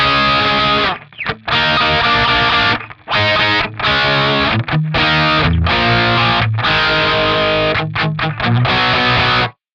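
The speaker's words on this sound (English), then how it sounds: "now it sounds like this." A distorted electric guitar played through a NAM Codex amp model chasing a rhythm tone, loud chugging chords in short rhythmic bursts with brief gaps, dry and upfront.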